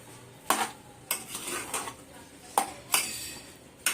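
Mashed potatoes being mixed with vegetables in a bowl for veg tacos: a spoon knocks sharply against the bowl every second or so, with softer scraping and stirring between the clacks, close by and without talk.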